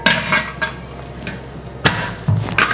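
A metal lid is pressed shut on a new biryani pot, giving several sharp metallic clanks and knocks spaced irregularly and close by.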